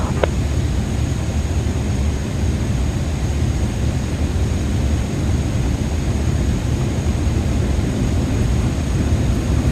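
Airliner engines spool to takeoff thrust in Microsoft Flight Simulator 2024, making a loud, steady, broadband roar. The roar holds at an even level throughout with no break and no voices.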